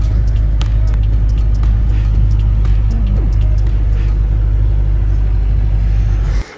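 A hired off-road vehicle carrying passengers on a rough track near Ooty after leaving the bus, its engine rumbling loud and steady throughout, with rattling jolts over the terrain and no talk.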